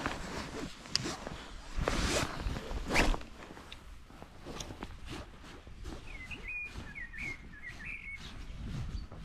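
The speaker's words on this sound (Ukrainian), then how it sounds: "Пташечки співають." Birds chirp and sing faintly in the background while footsteps crunch along outdoors on a trout fishing outing, with a brief rustle partway through.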